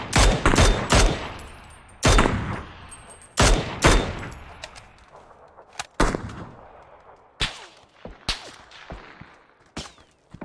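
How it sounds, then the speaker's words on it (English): Gunfire on the Miramar map in the battle royale game PUBG during a squad match: sharp, loud cracks and short bursts at uneven intervals, some close and some farther off, with echoing tails between shots. "We're getting shot from the smoke"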